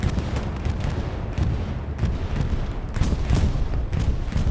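Bombing run explosions in the strategy game Glow's Battlegrounds, a steady rolling barrage of heavy booms and rumbling blasts, dense and loud without pause.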